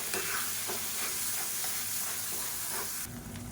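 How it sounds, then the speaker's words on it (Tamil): Tomato masala sautéing in oil over a medium flame for a brinjal and curry leaf kuzhambu, a steady close sizzle with periodic scraping stirs, no talking. "மீடியமான ஃப்ளேமில் அந்த தக்காளியோட பச்சை வாசனை போகிற அளவுக்கு வதக்கி விட்டுக்கலாம்."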